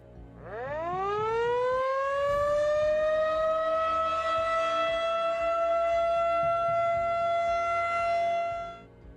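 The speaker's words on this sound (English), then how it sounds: "you may be outside and hear the tornado siren." A tornado siren winds up from a low moan to a loud, steady wail, holds its tone for several seconds, then cuts off at the end.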